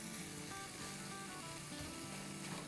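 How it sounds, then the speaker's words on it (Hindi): Masala for dhokli salan sizzles steadily in a pan over a medium flame, a faint, even frying hiss that holds unbroken throughout. "चलिए ये भुन रहा है"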